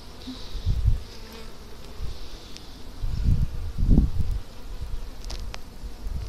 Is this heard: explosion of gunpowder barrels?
no